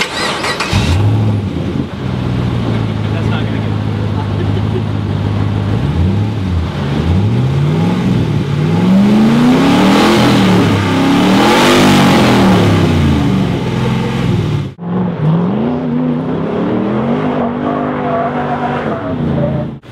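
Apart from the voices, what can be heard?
Rally Fighter car engine revving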